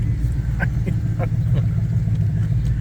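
A Ford GT500's engine rumbles steadily from inside the car, a deep continuous low drone with no break across the span.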